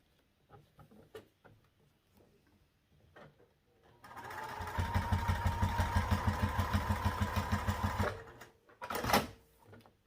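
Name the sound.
sewing machine stitching down one side of fabric pieces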